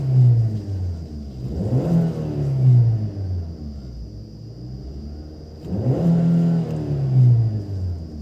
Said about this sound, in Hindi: और मैं अगर इसे रेफ करता हूँ तो आप देखना इसका साउंड आपको कैसा मिलेगा।